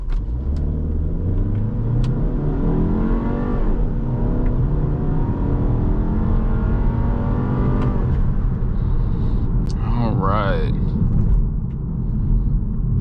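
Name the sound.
2020 VW Passat R-Line sedan accelerating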